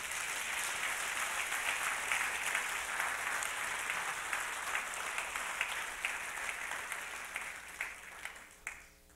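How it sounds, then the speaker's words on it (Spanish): A congregation gives loud, sustained applause during a Spanish-language Christian church service, dense clapping that fades into a few scattered claps at the end. "Le damos un fuerte aplauso al Señor."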